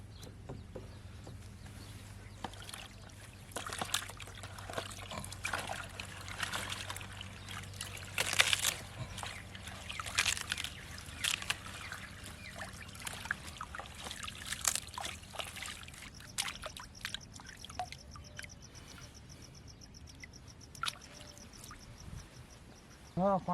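Beetroot and carrots are rinsed by hand in water in a village kitchen, with intermittent trickling, splashing and light knocks over about twenty seconds, moderately close against a low background hum.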